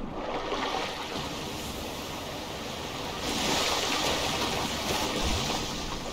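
Swimming through water in GTA 5, a steady wash of splashing and surging water that swells louder partway through and runs continuously with no talk over it.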